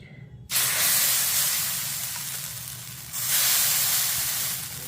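Dosa batter, a weight-loss recipe, hits a hot pan with a sudden loud sizzle that starts abruptly after a brief quiet moment, hisses steadily and slowly fades, then surges louder again partway through.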